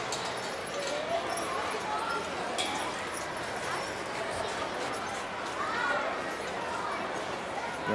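At a chore team competition, a horse team pulls a wagon, hooves clopping faintly and steadily beneath a busy outdoor crowd murmur, with people talking throughout.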